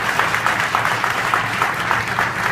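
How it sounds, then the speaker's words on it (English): An audience applauds a mayor at a Fields Foods grocery store ribbon-cutting ceremony, a steady, dense wash of clapping from a moderately sized crowd, sustained throughout without speech. "give him a round of applause"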